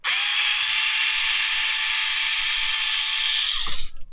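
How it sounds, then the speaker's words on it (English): A power screwdriver runs continuously for about four seconds, backing a tiny screw out of the gearbox of an Emerbu Toys MK8 V2 gel ball blaster. The whine is steady, loud and close, then stops abruptly at the end. "we're going to go ahead and take out this tiny screw"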